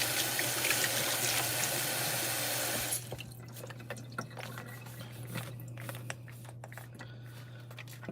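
Steady rush of water running from a kitchen tap as something is rinsed under it, loud and continuous for about three seconds, then cut off into quieter drips and small clatters nearby.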